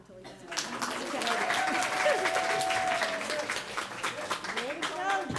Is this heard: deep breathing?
no